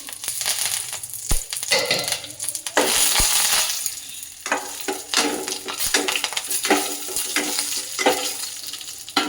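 Curry leaves crackle and sputter in hot oil in a pan, after green chillies, while cooking a black-eyed pea upsaaru; sharp popping bursts and sizzling come close up, with stirring scrapes and the clink of a pan between them.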